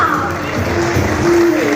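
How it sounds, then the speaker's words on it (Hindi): A dense crowd cheers and applauds to welcome performers onto the stage at an event in Lucknow, a loud, continuous wash of clapping and shouting throughout. "ऑडियंस प्लीज जोरदार तालियों के साथ स्वागत कीजिए"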